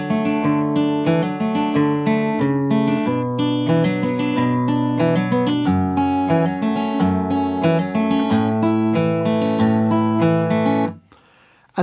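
Guitar playing the verse line of West Texas in My Eye by The Panhandlers at full tempo, a steady run of picked notes and chord strums with a driving rhythm, close and alone, stopping abruptly near the end.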